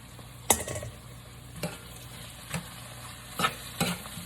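Vegetarian soy chunks hit a hot pan and sizzle as they are stirred, a steady frying hiss broken by several sharp scraping clatters of the spoon against the pan, close and alone.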